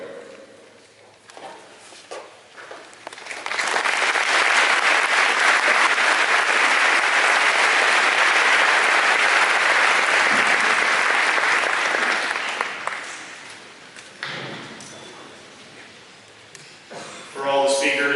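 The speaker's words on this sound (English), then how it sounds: "just one last round of applause for them for doing it" A crowd breaks into loud, sustained applause that swells quickly, holds steady for several seconds, then tapers off into scattered claps.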